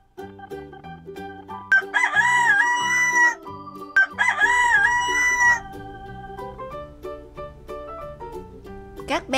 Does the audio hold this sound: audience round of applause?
no